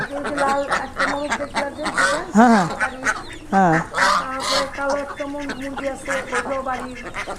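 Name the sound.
domestic ducks and chickens on farm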